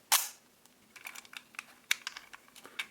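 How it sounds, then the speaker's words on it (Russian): A vintage FED-2 rangefinder film camera has its cloth shutter fired and wound. A sharp initial snap is followed by a string of softer mechanical clicks and ratchets, close and quiet. "Шторки работают великолепно."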